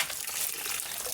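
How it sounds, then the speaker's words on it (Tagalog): Water splashes and gushes steadily while gold is panned, a continuous close pour with no talk. "Control imo pagyabos tubig."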